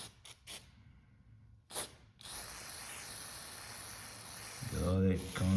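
Throttle body cleaner is sprayed onto the throttle body of a 1988–97 Nissan D21 in a few short hissing bursts followed by one long sustained spray. Someone speaks near the end.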